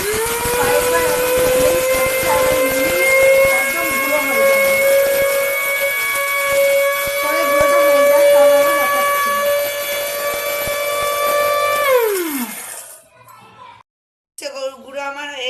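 An electric mixer grinder grinds mustard seeds with a loud, steady high-pitched motor whine for about twelve seconds, then winds down in falling pitch, followed by a brief near-silence and some faint clatter.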